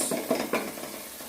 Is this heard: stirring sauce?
yes